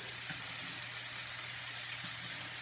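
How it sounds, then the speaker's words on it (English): Steak searing in a hot pan with garlic, a steady broadband sizzle and crackle throughout, close and moderately loud, with a couple of faint soft knocks and no talking. "So about 2 minutes will give you that sear that you're looking for."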